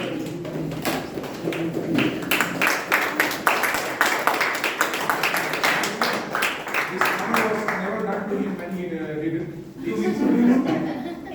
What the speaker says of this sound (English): Let's have a standing applause.